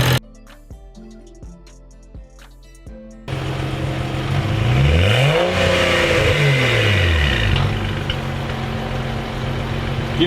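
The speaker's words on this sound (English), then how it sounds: "Give it some spirit. Just one little rev. One big rev." BMW 335i E90 with an N55 engine and Pure Stage 2 turbo, starting after some music and idling, then two close revs climbing and falling, a smaller one and a bigger one, over a steady rumble.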